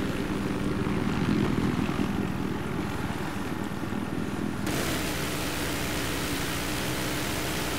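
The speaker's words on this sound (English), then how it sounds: "I think there's a helicopter chasing me" Video game helicopter, a Little Bird, with steady rotor and engine drone filling the whole stretch, loud and close, slightly changing tone partway through; no talking.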